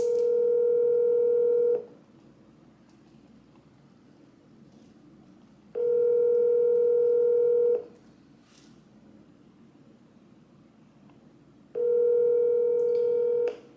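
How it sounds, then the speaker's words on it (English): Ringback tone of an outgoing phone call, three long steady bursts of about two seconds each separated by roughly four-second pauses, clear and close with no talking. "we're gonna give them a call and see what's going on here"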